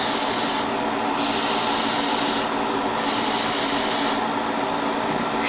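Short bursts of aerosol spray paint hit a part of a 1/144 Real Grade Gundam Sazabi model kit, three hissing passes of one to two seconds each with quieter gaps between, close and without speech.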